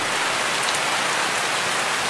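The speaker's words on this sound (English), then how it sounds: "That show you how much it's raining right now." Heavy rain pouring down outdoors beside a track, a loud, dense and steady hiss of countless drops striking surfaces throughout, with no talking.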